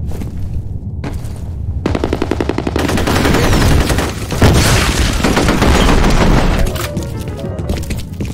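Rapid bursts of automatic gunfire and heavy booms from F.E.A.R. first-person shooter combat, loud and sustained across most of the stretch, easing near the end with brief quieter gaps.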